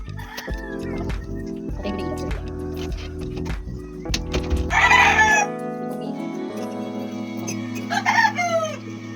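Chickens cluck and a rooster crows loudly nearby in a home yard during a morning routine, with repeated crows rising above steady clucking and other farmyard sounds.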